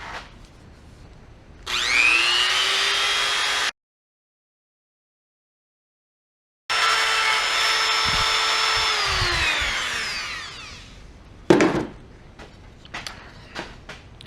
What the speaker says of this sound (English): so I'm going to go ahead and try and use the rotary tool to clean this one up.